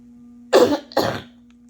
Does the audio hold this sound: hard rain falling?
no